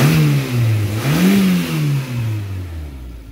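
A K-swapped rear-wheel-drive Mitsubishi Starion engine revs up and falls back in a couple of smooth surges, loud and close, with nobody talking.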